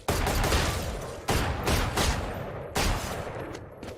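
Rapid bursts of rifle gunfire from the video game Valorant, fired from the hip in three close, loud volleys with no talking.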